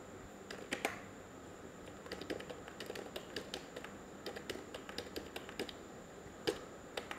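Keys on a computer keyboard are pressed in quiet, scattered clicks, with one sharper tap near the end. The sound is faint and close, with no talking.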